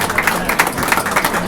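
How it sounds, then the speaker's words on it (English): Audience applause at a Council for Quality Growth meet and greet, a short run of dense, steady clapping from a crowd with a few distinct claps standing out. "Let's give everyone a great round of applause."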